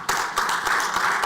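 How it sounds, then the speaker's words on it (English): An audience applauding at a cybersecurity lab launch event, a burst of many hands clapping together, dense and fairly close, steady for about a second. "I think that deserves a clap"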